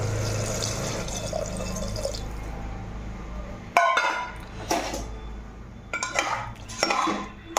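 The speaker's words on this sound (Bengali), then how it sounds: "এবার জল দিয়ে দেবো।" Water is poured into a pressure cooker holding spiced potato and egg curry base, a splashing fill after metallic clinks of utensils against the pot, close and fairly quiet.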